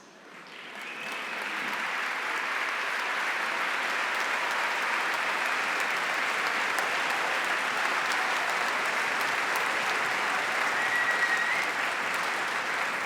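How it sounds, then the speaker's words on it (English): Thunderous applause from a concert audience for principals and district leadership at a school band concert, rising quickly and then holding steady as dense, sustained clapping throughout. "we could give you a thunderous round of applause"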